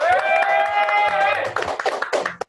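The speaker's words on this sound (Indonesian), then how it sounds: "Saya tahu di sini haredang, tapi tepuk tangan harus terus jalan" Hands clap in scattered bursts at an informal gathering, following a stretch where a person speaks. The claps are sharp, close and uneven, ending abruptly.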